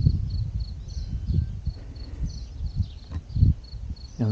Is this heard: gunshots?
no